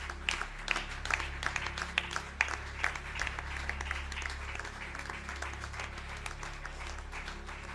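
A church congregation claps steadily to praise God, a dense round of applause from a crowd with a few faint voices mixed in.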